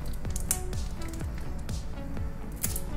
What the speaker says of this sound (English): Also, I'm gonna take off the shell.